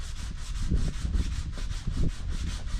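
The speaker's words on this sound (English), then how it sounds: "just a little sander." A small electric sander works a surface during final sanding, a close, continuous rough rubbing buzz with repeated pulsing strokes and no talk.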